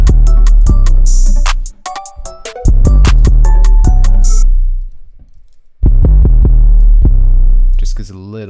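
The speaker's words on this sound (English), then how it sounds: "bring in some distortion, bring in Logic's Bit Crusher" A synth passed through Logic's Bit Crusher distortion at default settings, heavy buzzy bass tones with sharp gritty transients, played in two loud phrases separated by brief quiet gaps.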